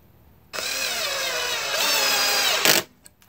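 A SCANS 20V cordless variable-speed drill driver sinks a wood screw, a close, loud motor whir lasting about two seconds that rises in pitch partway through, then stops abruptly, followed by faint clicks.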